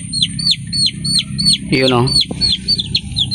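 Young chicks of a gamefowl hen chirp in quick repeated high peeps, close and clear, over low background rumble, while someone speaks briefly partway through.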